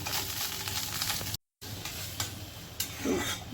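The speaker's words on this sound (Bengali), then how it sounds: "একটু ডিম ভাজলাম" An egg frying in a pan, a steady close sizzle with occasional scrapes and stirring, broken briefly by a short gap.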